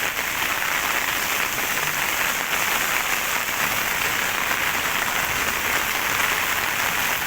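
Heavy typhoon rain pours down steadily, a dense, unbroken hiss that stays loud and even throughout with no voices over it.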